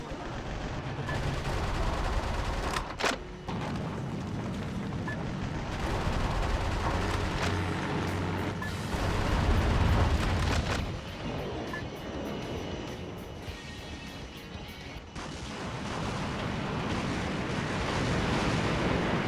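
Explosions and gunfire from the mech action game Metal Wolf Chaos XD form a dense, continuous roar, with booming low blasts and crackling shots that swell and recede, along with brief sharp bursts, throughout.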